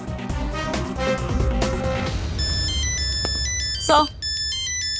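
A phone ringtone sounds in a tense crime-drama scene, starting after a voice speaks under background music, repeating its steady electronic melody loud and close until the end.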